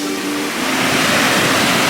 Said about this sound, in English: we might play the sound of the waves